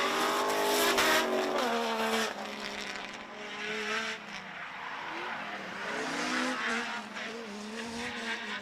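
A Nissan R33 and a Nissan S14 drift nose to tail at a state drift series round, engines roaring at high revs with sustained tire squeal and shifting engine pitch, loud and continuous.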